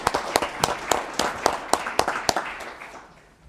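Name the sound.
audience applause for new council members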